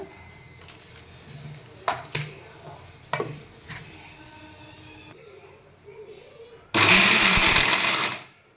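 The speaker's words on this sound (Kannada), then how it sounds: "ಮೊದಲು ಒಣ ಕೊಬ್ಬರಿನ ಮಿಕ್ಸಿ ಮಾಡ್ಕೊಂಬಂದ್ಬಿಡ್ತೀನಿ" A few clinks and knocks are followed by a mixer grinder roaring loudly for about a second and a half, grinding dry coconut, before cutting off.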